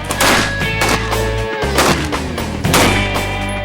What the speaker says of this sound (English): 75 gunshots later